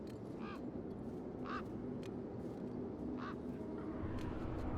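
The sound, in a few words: birds in video game Beyond a Steel Sky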